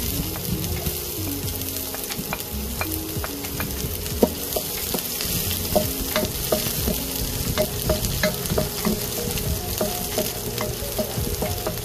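Chopped onion sizzles and fries steadily in hot oil in a pot for Filipino chicken sopas, a continuous crackling hiss punctuated by clicks of stirring utensils against the pot.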